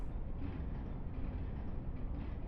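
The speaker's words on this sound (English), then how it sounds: "It's surprising how effective the like stereo audio on the train is." Train ride in the Mega Man X4 video game: a steady, dense rumble with metallic clanging and rattling spread in stereo, continuous and fairly loud throughout, with no voices.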